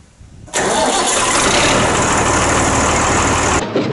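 A tractor's diesel engine, freshly bled of air in its fuel line, cranks briefly and then fires up into a loud, steady, rumbling run that holds for about three seconds before cutting back; no one talks.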